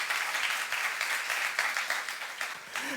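Applause from a church congregation at a youth service, a dense, steady crackle of many hands clapping together, sustained through the whole stretch without a pause.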